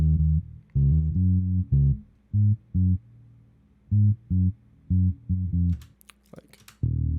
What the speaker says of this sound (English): And then the clean bass, which sounds like this.